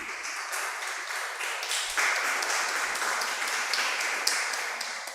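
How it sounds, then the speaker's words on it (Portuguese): Church congregation clapping during a Portuguese-language service, a continuous crowd of hands forming a steady, moderately loud patter that swells slightly partway through, with no speech on top. "Você pode aplaudir Jesus por isso?"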